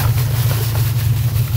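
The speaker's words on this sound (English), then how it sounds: "we're having some idling issues. It idles very lean, and I don't know why." A car engine idles roughly and lean on a street-tuned car, a steady low rumble that stays constant and fairly loud throughout with no talking.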